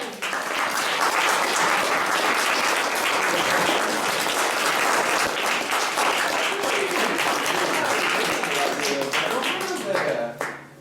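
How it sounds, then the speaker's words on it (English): Sustained audience applause for playwright Tennessee Williams, a dense, steady wash of many hands clapping for about ten seconds before tapering off at the end, with some crowd noise mixed in. "we could please give a warm applause to Tennessee Williams"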